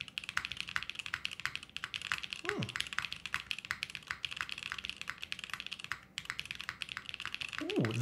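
A mechanical keyboard with a forged carbon fiber case and honey switches rattles with quick, even keystrokes close up, with brief spoken sounds faintly under the typing.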